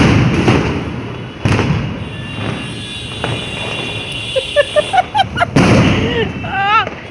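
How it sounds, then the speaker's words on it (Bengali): Firecrackers bursting on a New Year's night, a series of sharp pops and thuds near and farther off, scattered through the clip with a crackling burst near the end, under faint background voices. "কি বাজি ফাটছে।"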